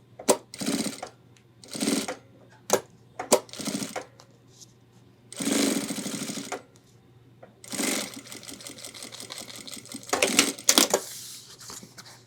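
A sewing machine runs in bursts as it stitches an ultralight 30-liter hiking backpack. Short and longer runs of rapid stitching are broken by pauses and a few handling clicks, with no talking.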